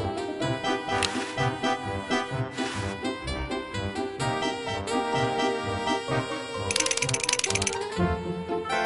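A mummy's teeth chatter in the point-and-click game Day of the Tentacle, a rapid, dry mechanical clattering that ticks along steadily underneath loud, busy game music.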